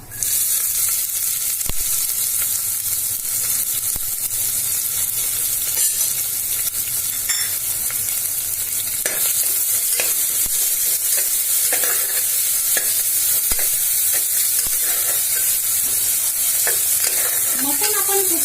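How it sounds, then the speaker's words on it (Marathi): Cumin, mustard seeds and finely chopped onion frying for a spicy mutton rassa, a loud constant sizzle and crackle with repeated scraping stirs running throughout, no voices. "जिरे मोहरी तडतडली चांगली हे बघा"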